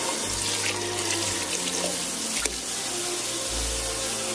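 Tap water runs steadily and loudly into cans being filled for minestrone soup, with a few shifts in pitch as the cans fill; no talking.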